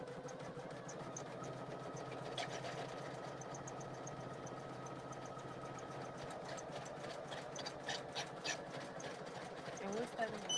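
A Poolin single needle embroidery machine stitching: a steady, fast mechanical whir and rattle with rhythmic needle ticks that runs continuously at moderate loudness, with a voice talking over it.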